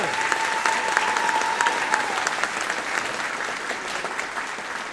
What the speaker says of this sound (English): Would you give these three individuals one more round of applause?